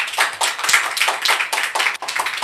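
An audience claps together in a steady, loud burst of applause, rising and falling in quick waves with a brief dip near the end.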